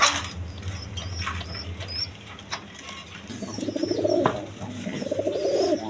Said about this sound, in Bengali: দর্শকবৃন্দ এখানে এক পেয়ার আউল শাটিং কবুতর আছে